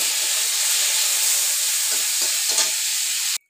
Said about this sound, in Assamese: অকণমান হালধি নিমখ দি কেনে শুকান মাছটো একদম ভাজি ল'ম